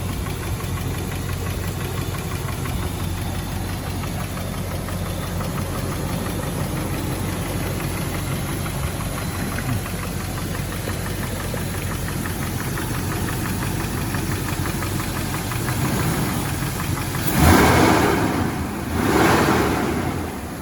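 A warm Land Rover Defender 4.0 V8 engine idling steadily after about 10 miles of driving, with a continuous low rumble and faint knocking, with a couple of louder bursts of rushing noise near the end.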